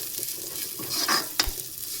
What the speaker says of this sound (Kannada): ಸೊ ಶಾವಿಗೆ ಚೆನ್ನಾಗಿ ತುಪ್ಪದಲ್ಲಿ ಫ್ರೈ ಆಗಬೇಕು, ಆ ರೀತಿ ಚೆನ್ನಾಗಿ ಫ್ರೈ ಮಾಡ್ಕೊಳ್ಳಿ